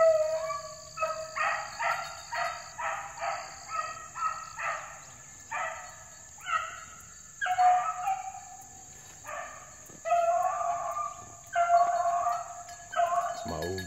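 A 14-month-old puppy makes a run of repeated howling, yelping calls in short bursts, fairly close and loud, outdoors during running.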